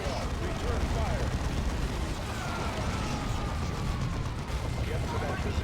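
Dense battle noise from Warhammer 40,000: Dawn of War II – Chaos Rising, with continuous rumbling gunfire and explosions filling the scene at a steady, loud level while a voice speaks over the combat.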